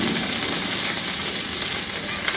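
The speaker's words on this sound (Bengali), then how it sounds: "ওটা দিয়ে এটাকে একটু ভেজে নিই" Grated ginger sizzles steadily in hot oil in a pan, a loud, dense, continuous frying hiss with no talk.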